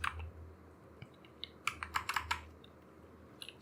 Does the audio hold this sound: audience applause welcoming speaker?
no